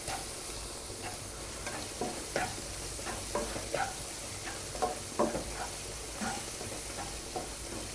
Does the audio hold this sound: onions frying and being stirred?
yes